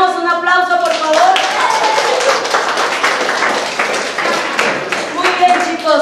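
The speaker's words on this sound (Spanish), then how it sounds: "les damos un aplauso, por favor" Students in a classroom give a round of applause: dense, steady clapping fills several seconds, with children's voices before it starts and again as it dies away.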